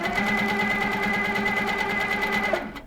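A sewing machine does microquilting stitches in a fast, steady, even rhythm of mechanical ticking over a motor hum. It is close and runs without pause until it stops at the end.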